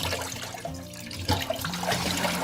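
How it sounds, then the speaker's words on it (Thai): Tap-temperature water poured off soaked rice vermicelli noodles in a home kitchen, a continuous splashing trickle running close by for a couple of seconds with a brief louder gush midway. "แล้วเราก็เทน้ำทิ้งในน้ำ แรก ก่อนค่ะ"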